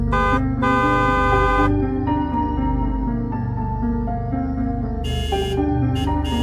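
A car horn blares in long, loud blasts, sounding again and again with brief gaps, close by and with no talking.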